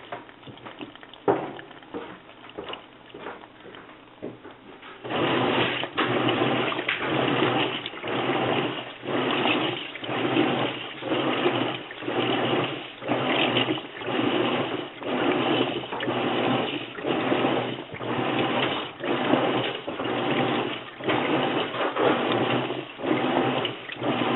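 A top-loading washing machine, already filled with water, churns in a steady rhythmic slosh that repeats every second or so, loud and close after a quieter stretch of clicks and trickling at the start.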